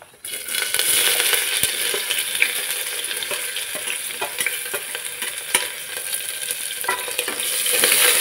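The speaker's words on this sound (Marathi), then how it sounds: "कांदा छान असा लालसर रंगाचा भाजून घ्यायचा आहे" Onions fry in hot oil with cumin for a mutton curry, a steady close sizzle carrying on throughout, with scattered scraping and clicking stirs of a spatula in the pan and no talking.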